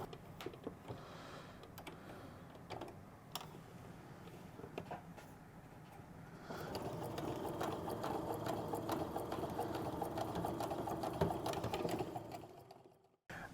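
A sewing machine stitches flying geese quilt blocks, starting with soft, uneven fabric handling and a few clicks, then settling into a steady, close mechanical hum for several seconds before stopping abruptly.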